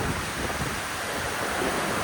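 Steady wind buffets the microphone with a constant roar on a cold Icelandic coast, while ocean surf washes faintly underneath.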